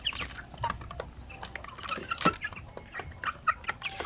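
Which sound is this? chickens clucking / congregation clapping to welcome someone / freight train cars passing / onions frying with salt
chickens clucking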